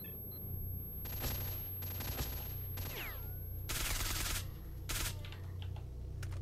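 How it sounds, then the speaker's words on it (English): Gas rifle gunfire in the video game S.T.A.L.K.E.R.: Shadow of Chernobyl, heard as several bursts of rapid shots, fairly faint and distant, over a low steady ambient rumble. "a guy with a gas rifle is just"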